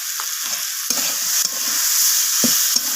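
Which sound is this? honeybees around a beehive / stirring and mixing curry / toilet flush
stirring and mixing curry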